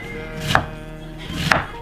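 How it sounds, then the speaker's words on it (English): A knife chops cabbage on a board in two distinct, sharp strokes about a second apart, each close and crisp over a quiet kitchen background. "right now my mom's chopping some the cabbage"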